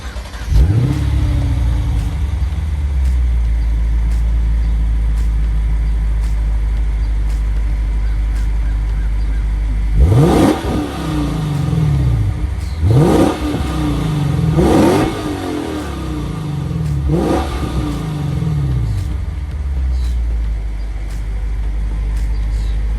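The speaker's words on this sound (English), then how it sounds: "Now you guys are going to listen to the exhaust" A Lexus RC F Track Edition with a 5-liter V8 idles with a deep exhaust rumble, then revs sharply four or five times in quick succession before settling back to idle, loud and close.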